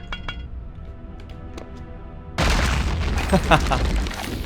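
A loud grenade explosion in Return to Castle Wolfenstein (2001) bursts in after a quieter stretch of faint clicks, its rumbling blast sustained for a couple of seconds with crackling debris on top.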